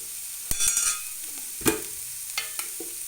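Tomato, chili and coriander frying in oil give a soft, steady sizzle, broken by a few scraping strokes as the mixture is stirred in the pan, close and clear.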